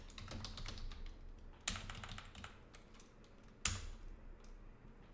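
Soft, steady typing of code on a computer keyboard, a fairly quiet run of rapid keystrokes with two sharper, louder key strikes standing out near the middle and later on; no voices.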